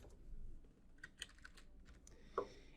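Keys tapped on a computer keyboard while entering a client number for SAP software, a few faint, scattered clicks and presses in a quiet room.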